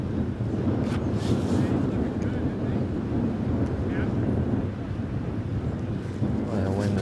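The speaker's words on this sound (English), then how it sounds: "Boy, the wind is really whipping around." Strong wind buffets the microphone on an outing around Block Island, a constant low roaring rumble with gusty surges and faint voices or background sounds mixed in.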